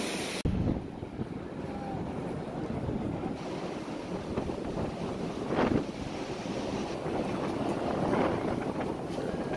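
Steady wind buffets the microphone while cycling near Fort Point beneath the Golden Gate Bridge in San Francisco, a constant low roar with occasional louder gusts.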